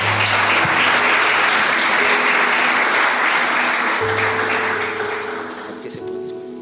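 Sustained applause from a church congregation, a dense steady clatter of clapping with a low hum beneath, tapering slightly toward the end.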